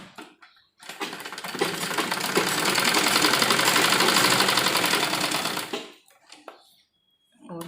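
A sewing machine runs straight stitching on an embroidered blouse, a loud continuous rattling whir close by for about five seconds, ramping up and then stopping, with soft handling noises after.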